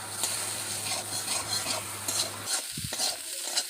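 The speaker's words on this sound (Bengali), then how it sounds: "আলু ভাজতে বেশি সময়ও লাগবে না, আর তেলের পরিমাণটাও কিন্তু কম লাগবে" Potatoes frying in a little oil and being stirred, a steady close sizzle with scraping strokes that drops off abruptly near the end, leaving a few faint knocks and no talking.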